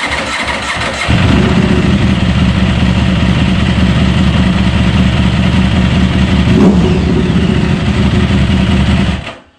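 A combustion engine starts and runs, showing off its emissions noise: a loud, close, rough roar that holds steady for several seconds and then cuts off abruptly.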